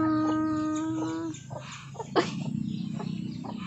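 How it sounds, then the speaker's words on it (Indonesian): A chicken's drawn-out call rings out near and clear, followed by a few short clucks and squawks against a soft background hum. "ayam bertelur ayam berkokok dia berkokok"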